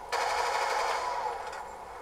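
Black Ops 2 Zombies gunfire: a loud, close burst of rapid automatic shots that runs for about two seconds and then trails off.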